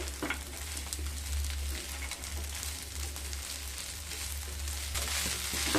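Vermicelli upma being stirred in a hot pan on a gas flame, a continuous soft sizzle with scraping stirring strokes, close and steady, no talking.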